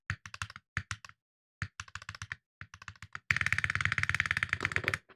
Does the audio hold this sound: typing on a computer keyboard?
yes